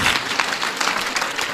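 An audience at a gathering with a guruji breaks into a short burst of lively, continuous clapping, fairly close and even.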